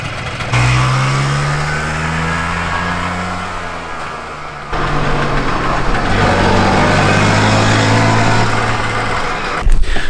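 Small two-stroke engine of a Messerschmitt KR200 microcar, loud and close, revs up, eases off briefly, then pulls away steadily as the car drives forward, with a short knock at the end.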